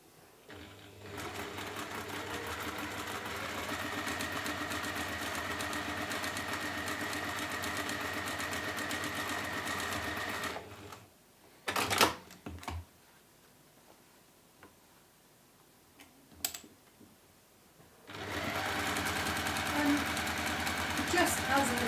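Sewing machine stitching quilt pieces together, a steady rapid mechanical whir for about ten seconds, then brief clicks and quiet, before the motor starts up again loud and close; talk is heard in the pause.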